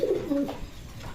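A male German Beauty pigeon at a pigeon farm gives a single short, close coo, low and throaty, with no talking.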